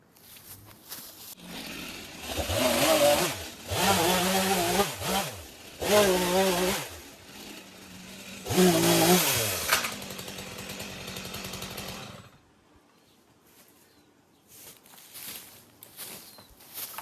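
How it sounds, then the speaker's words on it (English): A chainsaw roars in several loud bursts of cutting through tree trunks in a garden, revving up and down, then cuts out and leaves near-silence. "I'm just going to actually go and chainsaw all of these off"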